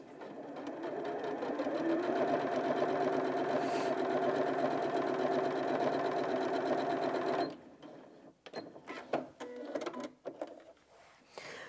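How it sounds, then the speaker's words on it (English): A Janome 5060 QDC sewing machine runs a straight stitch through two layers of dense fabric with a loud, steady mechanical whir for about seven seconds, then stops, followed by light handling clatter. "We'll stay on the standard straight stitch and then increase the stitch length because it's quite dense."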